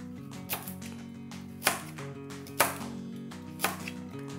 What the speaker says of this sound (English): now we cut little slices, not too teeny, not too thin